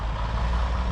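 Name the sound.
truck driving on a dirt site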